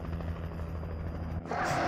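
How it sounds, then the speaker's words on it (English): A helicopter in the video game Alan Wake goes down: steady rhythmic rotor thumping that cuts off abruptly into a bright crash-like burst at the end. "And now the helicopter goes down, yes."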